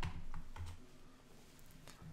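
A few soft keystrokes tap out a command on a computer keyboard, quiet and close, in a brief, uneven run with no talk.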